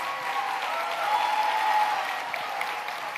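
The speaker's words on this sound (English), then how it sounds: "Give him a round of applause." An audience at an event honoring the Attorney General of New Jersey breaks into sustained, even applause, a dense wash of clapping that stays steady throughout.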